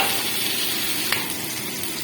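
Chicken curry for chicken maharani sizzles steadily in hot oil while it is fried and stirred, a continuous close hiss with a brief scrape of the spoon partway through.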